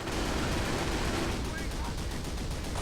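Sustained MG42 machine gun fire in Company of Heroes, a dense continuous rattle of gunfire filling the whole stretch at steady loudness, with battlefield noise and some speech mixed underneath.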